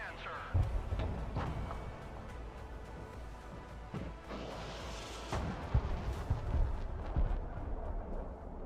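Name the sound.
rocket artillery firing in video game Broken Arrow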